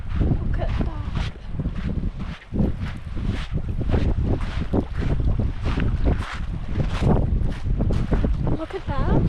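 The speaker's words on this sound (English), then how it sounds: "The wind hasn't really eased off" Strong wind buffets the microphone at a lakeside campsite at Lake Tennyson, a steady, rough roar with gusty swells that fills the whole stretch and masks any other detail.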